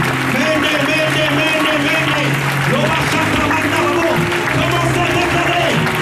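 A church congregation claps steadily to acclaim the Lord, a dense, continuous wash of applause with voices singing and calling out over it throughout.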